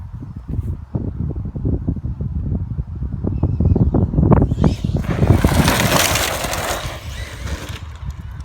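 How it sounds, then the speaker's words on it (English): Strong gusty wind buffets the microphone outdoors during Arrma Senton 3S RC truck bashing, a steady low roar that swells into a louder, broadband rush in the second half, with no voices. "the wind is blowing that way"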